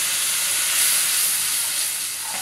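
Water poured onto frying onion and garlic in a pan, giving a loud, dense sizzling hiss that swells and then eases slightly, close by with no voices.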